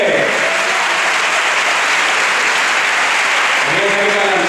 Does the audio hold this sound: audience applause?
yes